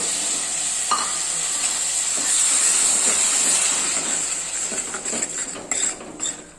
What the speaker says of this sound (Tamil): இது ஒரு அஞ்சு நிமிஷம் நல்லா வதங்கட்டும்